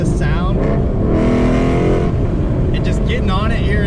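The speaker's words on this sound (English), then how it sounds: "I really love the sound of this car." Ford Mustang fitted with a Corsa exhaust cruising on a freeway beside a barrier, its engine and exhaust droning loudly and steadily from inside the car while someone talks over it.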